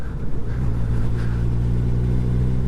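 A Kawasaki GPZ750 racing motorcycle at the North West 200 road race pulls hard, its engine a loud, sustained drone that builds slightly and stays even, close by, with no voices.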